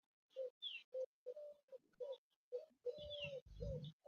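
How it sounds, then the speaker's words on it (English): Pigeons coo in short repeated phrases close by, with small birds chirping between them, separated by brief quiet gaps in a calm outdoor setting. "It sounds very peaceful down there with the pigeons cuckooing and the birds chirping."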